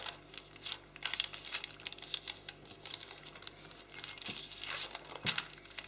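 Paper for an origami grizzly bear is folded and creased by hand, making soft, quiet crinkles and rustles in short bursts close up.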